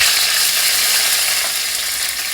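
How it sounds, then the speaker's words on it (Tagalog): Onions sautéing in a hot pan for kimchi stew, a loud close sizzle with scraping stir noises that eases slightly toward the end, no talking. "So, ngayon, magigisa po tayo ng sibuyas"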